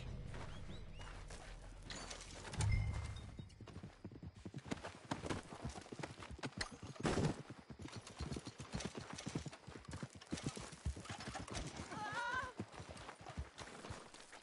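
Horse hooves clip-clop steadily through a Red Dead Redemption game scene, with a short whinny partway in and scattered voices and background noise over the hoofbeats.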